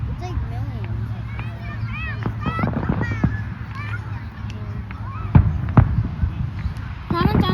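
Fireworks at a Fourth of July display crackle and pop in scattered bursts with a few sharper booms, heard under constant excited chatter and children's voices.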